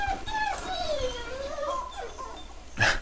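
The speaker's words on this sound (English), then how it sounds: "Sorry if you can hear my little pup in the background." A small puppy whimpers and whines in high, wavering, drawn-out cries, fairly near and continuous for a few seconds, followed by a short sharper yip at the end.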